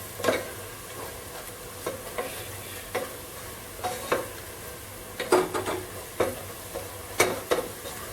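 Coriander powder roasting in a pan for a Kuttanadan-style duck curry, with a soft steady sizzle broken by repeated scraping strokes of a spoon stirring against the pan, close and moderately loud, no talking.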